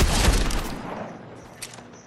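A double-barrel shotgun fires in Fortnite, loud and close, a burst of blasts in the first moments trailing into a decaying echo with a faint click afterward.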